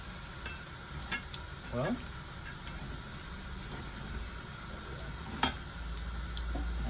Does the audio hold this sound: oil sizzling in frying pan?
yes